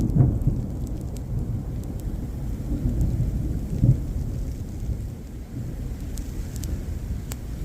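Heavy rain pours steadily throughout a thunderstorm while deep thunder rumbles and rolls beneath it, swelling in a few louder bursts, with no voices heard.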